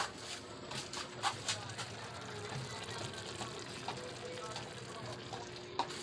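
A grandmother's dish frying in a pan in a home kitchen gives a faint, steady sizzle and bubbling throughout, broken by a few soft clinks of stirring.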